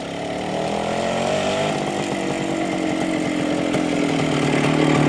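A DKW RT 125 two-stroke motorcycle engine runs steadily nearby at a raspy, buzzing idle, loud and continuous throughout with no talk.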